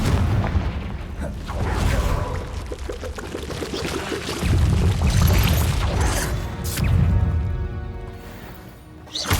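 Confringo spell blasts in Hogwarts Legacy, heavy booming explosions that swell and crash in several surges over a rumbling, debris-filled background.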